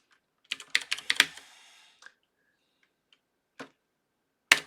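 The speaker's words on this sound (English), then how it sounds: "I think I actually need to type init now." Typing on a computer keyboard while entering an init command: a quick burst of close, crisp keystrokes, then a pause and two isolated key presses, one sounding like a final Enter key.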